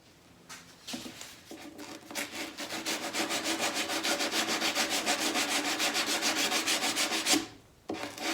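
Tape being peeled off a wooden board in a cabinet-making workshop, a rapid rhythmic ripping rasp that builds for several seconds then stops, followed by a short scrape, close and alone.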